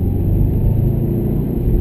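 A 2013 Subaru WRX STI sedan with a COBB Stage 1 tune cruises at normal speed, its engine a steady low rumble and whir heard from inside the cabin, continuous and fairly loud.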